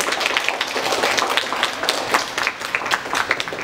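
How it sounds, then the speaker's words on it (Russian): Indoor audience applauding to welcome a guest, a steady patter of many hands clapping at moderate loudness with no voices over it. "Ваши аплодисменты!"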